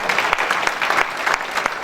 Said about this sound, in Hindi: आपकी तालियां जब भी बजती है